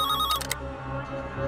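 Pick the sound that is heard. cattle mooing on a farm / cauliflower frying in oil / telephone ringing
telephone ringing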